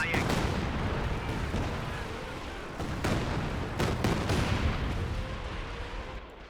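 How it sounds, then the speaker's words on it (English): Battle din from the real-time strategy game Company of Heroes 2 as Allied players hurl explosives and artillery: a steady wash of distant booms, scattered gunshots and several sharper blasts, with a commentator talking over it. "The Allied players are just hurling a bunch of explosives at their opponents."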